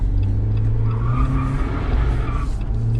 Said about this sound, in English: Now I'm gonna pull off again in second gear.